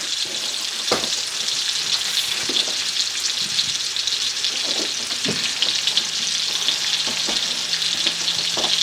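Salisbury steak patties, gluten free and dairy free, frying in a pan with a loud, steady sizzle, punctuated by occasional light clicks and small bumps, with no talking.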